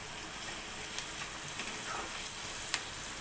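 Ginger pieces and garlic frying in a pan for an egg fry curry, a soft, steady sizzle with a couple of faint stirring taps, quiet and close, no talking.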